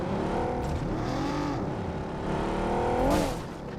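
A vehicle in a mobile battle royale game drives along, its engine whining up and down in pitch as it speeds and slows, steady and fairly loud with no voices.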